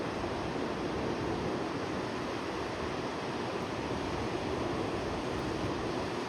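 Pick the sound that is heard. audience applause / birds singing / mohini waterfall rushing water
mohini waterfall rushing water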